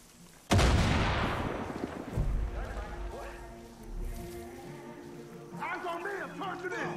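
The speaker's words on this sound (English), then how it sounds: "Well, that's a grenade." A grenade goes off in Far Cry 5, one sudden loud blast followed by a long rolling rumble and debris, then lighter scattered impacts as the noise settles.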